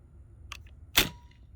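A Cocker paintball marker dry fired, giving a soft mechanical click followed by one sharp, close pneumatic snap and a brief hiss trailing off.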